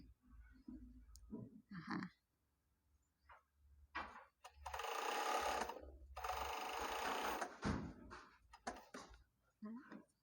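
Sewing machine stitching a basic T-shirt, a steady mechanical whir in one sustained run of a few seconds, with someone talking before and after it.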